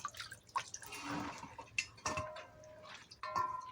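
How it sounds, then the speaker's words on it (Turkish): Blanched peppers being tipped into a colander to drain, with close splashes, drips and light clinks of the colander, no talking. "Şoklamış olduğum biberlerimi şimdi süzgece çıkartacağım."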